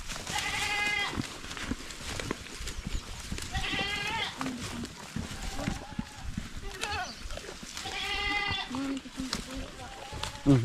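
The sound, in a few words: goat bleating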